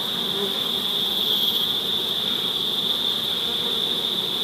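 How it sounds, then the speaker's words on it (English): A small swarm of bees at a hive box makes a dense, continuous buzzing that holds steady and fills the whole stretch, close and fairly loud, with no voices. "now we're going to get these bees to boost the population of bees that is inside this box right here"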